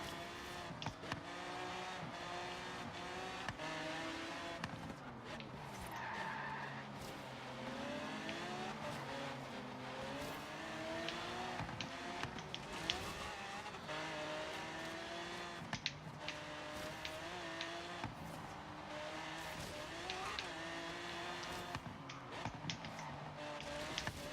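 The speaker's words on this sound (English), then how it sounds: "Uh-oh, there we go drifting again." A car drifting in the Forza Horizon 3 racing game, likely a Lamborghini, with a steady engine drone and long wavering tire squeals that rise and fall throughout, all at a constant moderate level with no voices.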